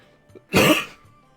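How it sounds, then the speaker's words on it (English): A single cough, loud and close, bursts out after a soft throat noise and fades over about half a second in a quiet room. "I just coughed off to the side."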